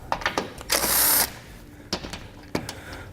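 Bolts come off the bottom of the front fascia on a 2019 Jeep Cherokee, likely with a power tool and a 10mm socket: a short burst of whirring around one second among sharp clicks and clinks of the socket and bolts.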